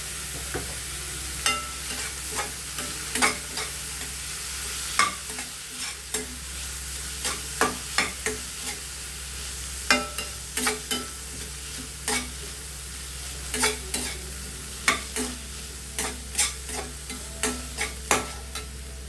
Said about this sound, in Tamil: நம்ம கேரட் மட்டும் கொஞ்சம் போட்டு வணக்கிடலாம் லைட்டாக வணக்கிடலாம்